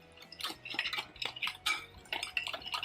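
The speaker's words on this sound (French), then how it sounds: "je vais mélanger tout ça ensemble avec directement un fouet" A whisk beats chiffon cake batter ingredients, including sugar, in a bowl, making quick, quiet rhythmic scraping and clinking strokes that repeat several times a second.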